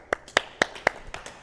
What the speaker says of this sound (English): claps to these guys